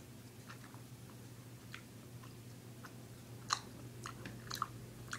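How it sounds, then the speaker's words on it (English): Sunrise Scary Gummies candy being chewed close up. Quiet, springy squishing and mouth sounds repeat irregularly, with a few sharper wet clicks near the end, over a faint background hum. "I haven't even cracked the surface and I'm chewing vigorously now."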